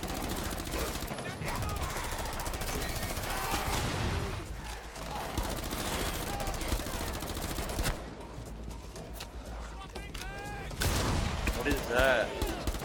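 Rapid gunfire from a shooter video game, Rainbow Six Siege Outbreak, crackling in dense bursts through most of the stretch under game effects, with a voice speaking briefly.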